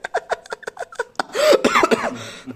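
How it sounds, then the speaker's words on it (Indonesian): A person coughs in a quick series of short bursts, then lets out a louder, throatier fit of coughing with a chuckle-like quality, heard up close at a movie premiere viewing gathering. "Batuk aja ya"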